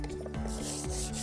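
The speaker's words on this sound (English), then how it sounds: "sand the rest of the surface" Hand sanding of the painted surface on a car mirror during a scratch touch-up, heard up close as a steady, continuous abrasive rubbing with a few rhythmic back-and-forth strokes, no voices.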